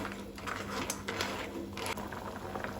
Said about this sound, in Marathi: तिसऱ्यांक खतखतो येवपाक लागला